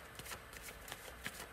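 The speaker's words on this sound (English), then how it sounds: "I have pre-shuffled, but as always, I will go ahead and shuffle live." Tarot cards are shuffled by hand in quick, soft riffling bursts, with crisp flicks and slaps scattered through a short, close-up stretch and no voice.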